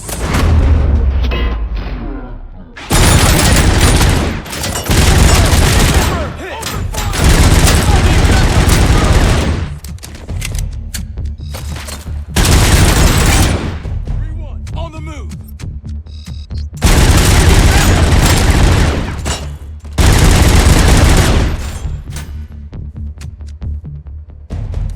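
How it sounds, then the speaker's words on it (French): Repeated bursts of loud gunfire in the Robocop Unfinished video game, some sustained like automatic weapon fire and some shorter, with quiet gaps between the volleys. "Je prends mon flingue."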